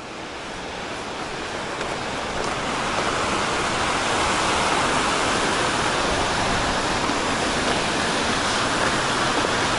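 Steady rushing water, loud and continuous like a nearby flowing river along the Pacific Crest Trail near Muir Pass, building slightly and then holding constant with no voices.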